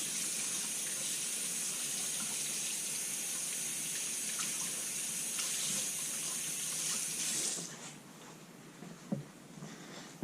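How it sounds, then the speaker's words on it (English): A soft Arkansas sharpening stone is rinsed under a running tap, a steady hiss of water for about seven seconds before the flow stops, followed by a faint drip and a knock, close and fairly quiet. "Let me wash it off first, and then we'll lap it to 220."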